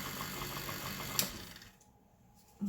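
An electric mixer runs on a bath bomb mixture, a steady close motor hum that winds down and drops away, then restarts abruptly at the end.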